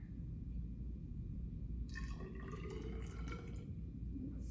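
Water poured into a container during a freshwater lesson demonstration, a soft splashing trickle starting midway over a steady low background hum.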